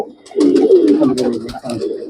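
Lahori pigeons cooing nearby in a continuous, throaty warble, several soft calls overlapping with a few faint clicks and rustles.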